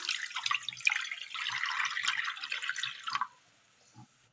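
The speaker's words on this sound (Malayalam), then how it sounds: "അടുപ്പത്തൊരു പാത്രം വെച്ച് കൊടുത്ത് അതിലേക്ക് അല്പം വെള്ളം ഒഴിച്ചു കൊടുക്കാം" Water poured steadily into a cooking pot set on a stovetop, a dense, splashy stream running for about three seconds before stopping abruptly, followed by faint drips and near silence; no voices.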